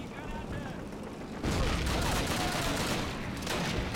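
Grenade blasts and gunfire in a Call of Duty battle, a rumbling, sustained roar of explosions and shots that swells loud about halfway through and stays heavy to the end.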